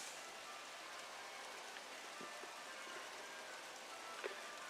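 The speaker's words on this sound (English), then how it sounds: "it's beginning to rain" Rain falls steadily on a freshly seeded lawn in autumn, a constant even hiss with a few faint drop ticks and no voices.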